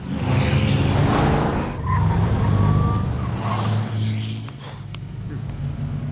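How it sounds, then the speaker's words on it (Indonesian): A loud sports car speeds past in a city street scene with revving engine and a brief tire squeal, heard under speech that runs across most of the stretch. "tiba-tiba dikagetkan dengan suara mobil sport yang sangat kencang"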